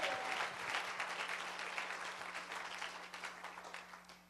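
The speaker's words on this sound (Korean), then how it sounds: "하나님께 영광의 박수" A church congregation at a revival meeting in New York claps together, a dense, steady wash of applause that starts strong and slowly thins over a few seconds, with a low hum underneath.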